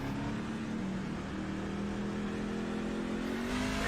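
A race car roars away from its pit stop after a four-tire change, the engine loud and close with a sustained rising drone that climbs in pitch as it accelerates, with no talk over it.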